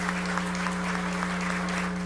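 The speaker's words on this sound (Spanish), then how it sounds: "para quien también pedimos este cálido aplauso." Warm applause greets the president's daughter at a welcome ceremony for the first cruise ship arriving in Pedernales, a steady, fairly faint outdoor clapping wash under a constant low mechanical hum.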